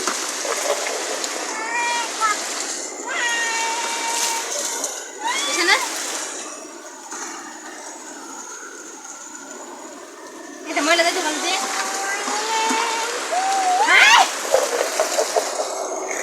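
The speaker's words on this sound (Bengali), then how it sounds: "বৃষ্টির মধ্যে ভিজতেছে। হ্যাঁ মরিয়ম নিয়ে যাও। এত পরিমাণ বৃষ্টি" Heavy rain pours and splashes steadily, a dense hiss throughout, with people talking and calling out over it at several points.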